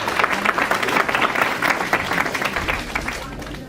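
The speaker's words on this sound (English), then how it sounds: "the students truly deserve a clap for" A hall audience at a management studies college fest gives students a round of applause, with steady, dense clapping that stays loud throughout.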